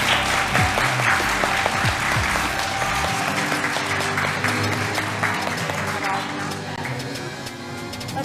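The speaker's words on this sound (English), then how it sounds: "Okay, let's give all of our contestants a round of applause." An audience applauds costume contestants at a cosmetology school costume showcase and contest, loud dense clapping sustained throughout, with a few brief voices mixed in.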